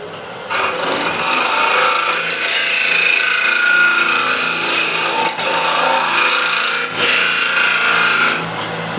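An asymmetric curve scraper rasps against wood inside a box, a loud, continuous scraping in long strokes with brief pauses between passes.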